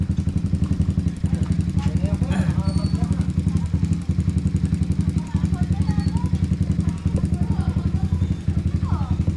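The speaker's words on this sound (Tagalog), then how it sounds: "pa motor ni Dexter to hindi niya pa iingayin yan" A motorcycle engine runs close by with a steady, rapid throbbing idle that continues throughout, with voices talking over it.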